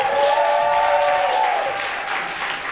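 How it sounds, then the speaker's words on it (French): An audience applauds on stage to welcome a performer at a comedy show, a dense, steady burst of clapping with a tonal cheer or whistle riding over it, then slowly easing off. "Sous vos applaudissements, Adé, s'il vous plaît."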